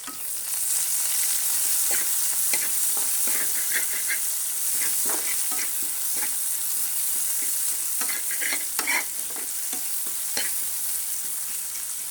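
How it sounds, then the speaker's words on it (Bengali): Onions frying lightly in oil left from frying hilsa fish, a steady close hiss and sizzle with intermittent scraping and stirring clicks of a spatula in the pan. "এই মাছ ভাজার তেলেই পেঁয়াজটা হালকা করে ভেজে নেব।"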